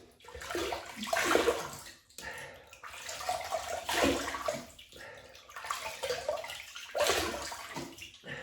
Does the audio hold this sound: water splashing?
yes